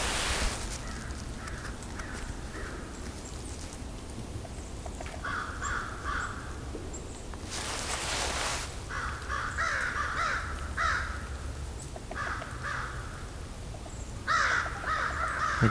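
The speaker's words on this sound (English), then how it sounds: "These are American crows." American crows in a mixed winter flock caw repeatedly, harsh calls in irregular bursts spread across the clip, moderately close over soft outdoor ambience.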